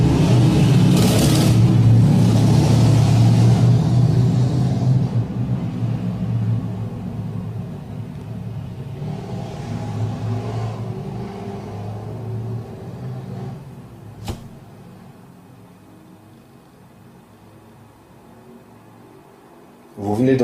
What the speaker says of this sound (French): Vous venez d'entendre un deux roues avec un moteur de porte-avions.